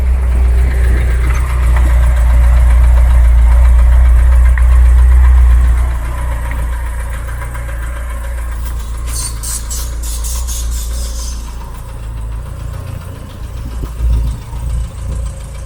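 Bradford GXL car engine idling as it drives in, a heavy low rumble loud at first, then easing off after a few seconds into a quieter idle, with a brief high rattle midway.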